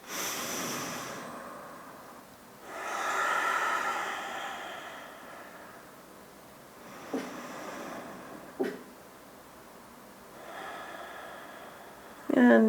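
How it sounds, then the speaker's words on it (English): Slow, audible breaths drawn in and let out through the nose while holding a hip-raising yoga bridge pose, several long inhales and exhales spaced over the stretch, close and fairly soft, with a sharper sniff near the end. "and we breathe"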